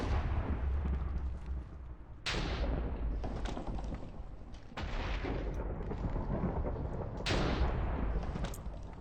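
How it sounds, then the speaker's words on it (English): Deep rumbling thunder from lightning striking in modded Minecraft, a dense continuous roar with sharp cracks that land every few seconds over several seconds. "Casually lightning through my ceiling."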